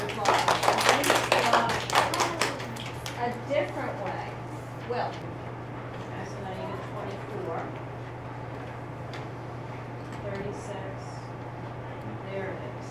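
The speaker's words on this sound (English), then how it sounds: "Let's give Andy a round of applause." A classroom of students applauds a classmate with a dense, close burst of clapping for about three seconds, then trails off into quieter room noise with faint scattered voices over a steady low electrical hum.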